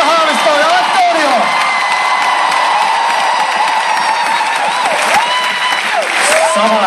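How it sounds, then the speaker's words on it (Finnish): Large arena crowd at a concert in Helsinki's ice hall breaks into sustained, loud applause and cheering with whoops, while a voice speaks over it through the din. "Pistetään vielä isot aplodit."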